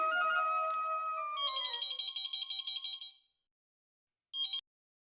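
A phone ringtone plays a bright electronic melody, then a few rapid repeated pulses, falls silent, and gives one more short burst; loud and close, with no one speaking.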